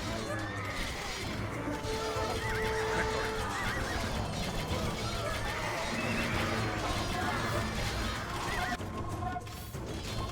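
Cavalry horses neigh and whinny repeatedly over galloping hooves and clashing battle noise in a historical real-time strategy game, a dense, loud, continuous din with several whinnies rising above it.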